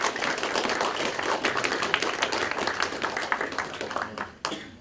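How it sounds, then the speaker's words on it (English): An audience applauds the dean inside St. Paul's Episcopal Cathedral, dense steady clapping filling the room for several seconds before it thins out and stops near the end. "And a big round of applause for the dean, please."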